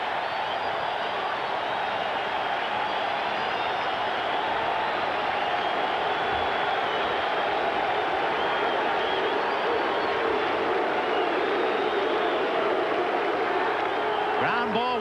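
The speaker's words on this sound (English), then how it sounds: "And listen to this crowd now" A packed ballpark crowd at a 1986 World Series game, Mets at Red Sox, keeps up a steady, broad roar of cheering and applause that rises slightly toward the end, with a broadcaster's voice occasionally over it.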